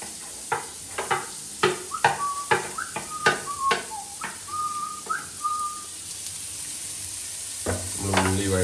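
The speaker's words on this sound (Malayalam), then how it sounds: "നമ്മൾ ഉള്ളി വഴറ്റിട്ടു, ചെറുതായിട്ട് വഴറ്റിയിട്ടുണ്ട്" A utensil stirs onion sautéing in butter in a pan, giving a run of crisp, evenly spaced scrapes over a gentle sizzle up close, while someone whistles a short tune partway through.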